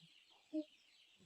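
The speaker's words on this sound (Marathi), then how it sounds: "ते कोंबडे कसे आरवतात बघा बाहेर बघा" Two short rooster calls, one midway and one at the very end, over quiet outdoor background in Konkan after heavy rain.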